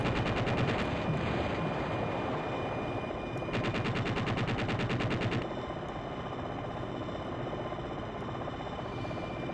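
An attack helicopter in the Jane's Longbow flight sim fires its cannon in two rapid rattling bursts over a constant loud rotor and engine roar, with no talk.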